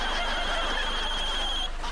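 A mobile phone in a Hindi TV comedy serial rings with a continuous, high, warbling electronic tone that holds steady for about two seconds.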